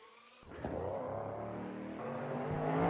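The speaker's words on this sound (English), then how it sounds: "you haven't heard the V12 engines yet. The one I'm going to show you sounds awesome" A V12 racing car engine in the Automobilista 2 racing game starts up and revs, climbing from a low idle into a steady, rising, buzzy roar that grows louder toward the end.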